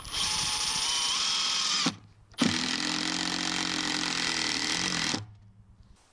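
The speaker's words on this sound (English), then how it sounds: "this next test is going to be with the one-key impact driver" Milwaukee One-Key impact driver runs two screws, each a loud, close, high-pitched mechanical whir, the first about two seconds and the second about three, separated by a brief pause, with no talking.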